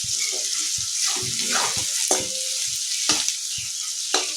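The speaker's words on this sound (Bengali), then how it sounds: "একটুখানি ভাজা হয়ে তো চাউমিনটা দিয়ে দেবো" Chowmein fries in a pan with a constant sizzle, while a spatula stirs and scrapes it in short, uneven strokes with a few sharp clicks against the metal, close and clear.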